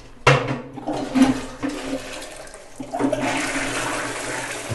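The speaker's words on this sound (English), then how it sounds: "the flushing system." Close by, a toilet flushes loudly, with a strong rush of water that settles into a steady draining and refilling sound.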